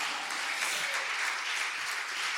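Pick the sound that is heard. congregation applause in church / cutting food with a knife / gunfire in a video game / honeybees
congregation applause in church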